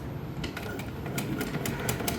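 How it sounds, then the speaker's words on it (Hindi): A sewing machine stitches elastic onto a plain dress in a quick, even chatter of needle strokes, close and moderately quiet. "4-5 सिलाइयाँ लगा के इसको पक्का करना है।"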